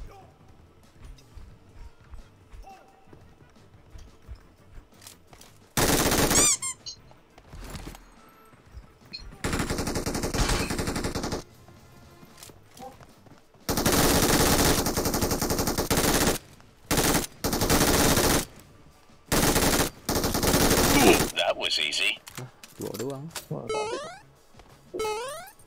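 Bursts of automatic gunfire from the battle game PUBG Mobile, loud rapid volleys coming in several separate blocks, with quieter stretches in between and game voice chat heard between the bursts.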